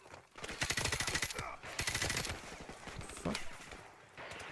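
Automatic weapon bursts crackle through the Call of Duty: Modern Warfare Remastered tank chase, loud rapid volleys in two long stretches with sporadic shots after, while a player swears and talks over the firing.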